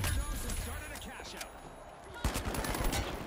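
Gunfire in an online shooter video game, sharp bursts of shots at the start and again near the end, fairly quiet overall with rapid repeated cracks.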